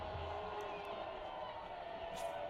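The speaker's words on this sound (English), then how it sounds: "most of the crowd noise you're hearing is coming from the far sidelines." Football stadium crowd at a Saginaw Valley State versus Ferris State game, a steady distant roar of cheering fans from the far sidelines, with a commentator's voice over it.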